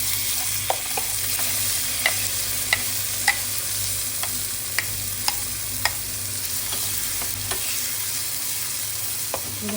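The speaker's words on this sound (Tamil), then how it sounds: "இது வந்து நல்லா கொஞ்சம் வந்து நல்லா வதங்கி நல்லா எண்ணெய் பிரிகிற வரைக்கும் நல்லா வதங்கணும்" Ground red chutney paste sautéing in oil in a pan, with a steady close sizzle and regular crisp ticks of a spatula scraping and stirring.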